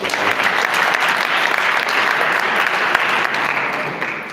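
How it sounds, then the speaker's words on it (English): A round of applause from an audience at a stakeholder sensitization and farmer training event, sustained even clapping from many people, loud and close, tapering slightly at the very end. "another round of applause"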